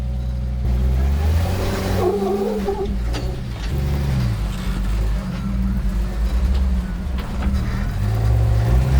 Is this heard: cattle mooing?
no